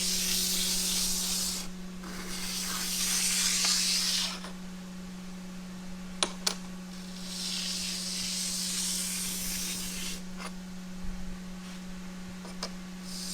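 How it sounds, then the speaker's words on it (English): An anodized titanium part is finished on a higher-grit belt of a belt grinder, a steady motor hum under bursts of loud hissing abrasion as the part is pressed on and pulled off, with a few sharp clicks. "Now it's finishing off on the higher grit belt."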